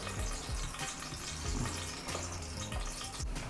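Whole spices (cinnamon, cloves, cardamom, star anise and bay leaf) sizzle in a spoonful of ghee for biryani, a steady close crackling fry with light stirring and no talk.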